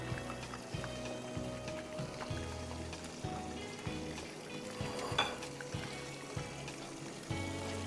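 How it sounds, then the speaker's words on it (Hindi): Karahi frying in a pan, a steady, quiet sizzle and bubbling with soft, regular rhythmic thumps underneath and a brief brighter splatter midway. "इसको हमें एटलीस्ट 10 मिनट्स के लिए फ्राई करना है।"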